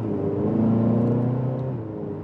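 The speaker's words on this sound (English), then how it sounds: "so setting off now in the Sonata" A turbocharged Hyundai Sonata sedan pulls away with a steady engine drone that builds and holds, then eases slightly toward the end, heard from inside the cabin without talk.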